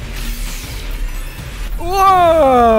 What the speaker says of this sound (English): That was the sound of the level exit.